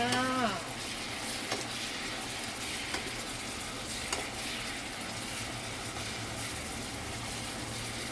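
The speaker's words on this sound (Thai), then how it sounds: "ก็ผัดให้เข้ากันดีเลยค่ะ" Chicken offal stir-fries with a generous handful of holy basil, giving a steady, moderate sizzle with soft stirring scrapes throughout and a brief tonal whine at the very start.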